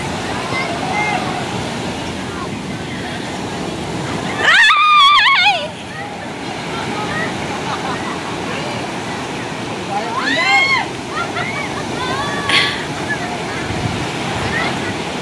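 Big ocean waves crash and surge continuously during Typhoon Carina, a loud roaring wash with a heavier crash midway, while excited voices shout over the surf.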